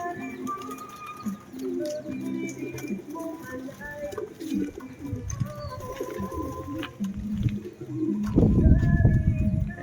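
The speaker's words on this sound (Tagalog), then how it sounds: "Ito yung mga kalapati ni Lolo." Pigeons in a backyard loft coo in low, repeated throaty calls, mixed with wing flutters and other bird noise, building to a denser burst near the end.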